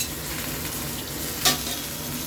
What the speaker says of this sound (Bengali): এই যে 5 ফোড়ন শুকনো লঙ্কা তেজপাতা ফোড়নে দিয়ে আলুটা তুলছি